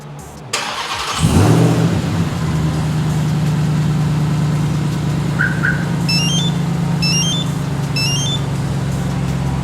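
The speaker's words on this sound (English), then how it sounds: "I'm gonna jump out, remote start the vehicle" A 2023 Ram 1500 TRX pickup engine is remote started: the crank catches in a loud surge, then settles into a steady, deep idle close by, with a few short electronic chirps sounding over it. No one speaks.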